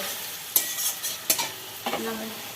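A spoon stirring mola fish and potato curry in a hot pan, with a few distinct scraping knocks over a soft sizzle, close and alone without talk.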